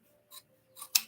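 Kai scissors snipping through material while a sliding pencil pouch is made: three quick, crisp cuts, the last one loudest and sharpest, close by with no one talking.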